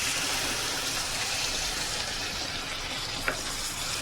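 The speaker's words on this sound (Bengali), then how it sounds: "এবার এগুলোকে একসাথে একটু সময় ভাজবো" Prawns frying with yogurt and spices in a pan, a loud steady sizzle throughout with a brief scrape of stirring near the end.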